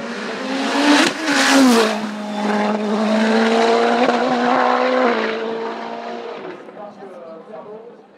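A new mid-engined Nova Proto NP01 race car climbs a hill course at Bagnols-Sabran, its engine droning loudly with shifting pitch as it revs through gears and passes close by, then fades into the distance, with commentary talk over it.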